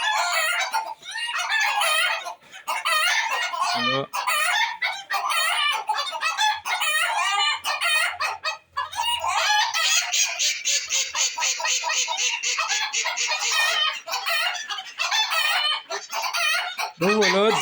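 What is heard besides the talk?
chickens clucking and crowing in aviary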